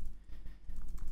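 Typing on a computer keyboard while entering a yarn command in the Sublime Text editor, a quick run of soft, close keystroke clicks over a low background hum.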